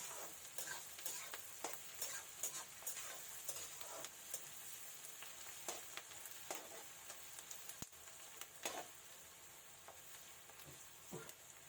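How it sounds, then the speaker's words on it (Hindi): Onions slowly frying for a goat mutton curry, with a steady soft sizzle broken by frequent stirring scrapes and clicks; quiet, close and continuous with no talk. "इसे तब तक भूनना है जब तक ये हल्का गोल्डन ब्राउन कलर का हो जाए"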